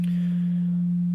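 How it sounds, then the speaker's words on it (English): A single steady pure tone at one low-mid pitch, smooth and unwavering, held at constant loudness for about a second. "is a sinusoid, a sine wave. It has a very pure sound to it."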